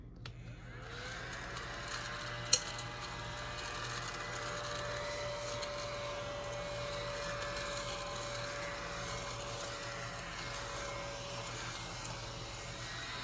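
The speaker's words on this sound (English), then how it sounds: "It is a little vacuum." A small handheld vacuum motor whirs on after a click and holds a steady, thin whine, fairly quiet and close.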